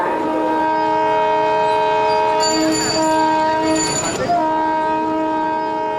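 A train horn sounds in long, loud harmonic blasts as a train passes nearby in South India, with a brief pitch swell mid-pass and rail rumble continuing underneath.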